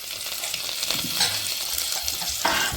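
Chopped garlic and curry leaves frying in hot oil make a loud, dense crackling sizzle close up, with brief stirring scrapes and one sharper spatter near the end; no one speaks.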